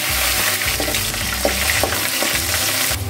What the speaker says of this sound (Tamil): நல்லா பூண்டு செவக்கணும்